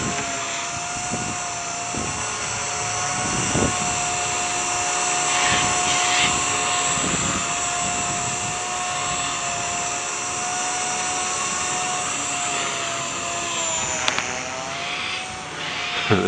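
A small 130X RC helicopter hovers and flies nearby on an 85% flat throttle curve, giving a steady high-pitched rotor and motor whine with a sustained tone that holds throughout, occasionally swelling as it shifts position outdoors.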